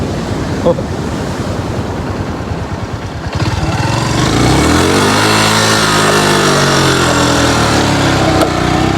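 An NS motorcycle engine idles and runs steadily, loud and close, with a low rumbling pitch that shifts slightly, preceded by wind-like noise.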